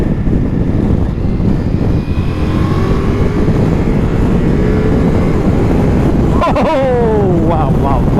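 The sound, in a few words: Ducati Multistrada V4S motorcycle engine accelerating in sport mode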